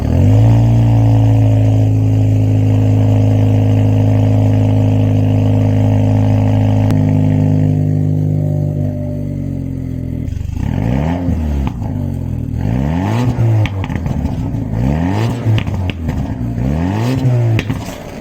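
A Jaguar XJS 4.0 litre engine idling with a steady close rumble, then revved repeatedly in quick rising and falling bursts, loud and alone without voices.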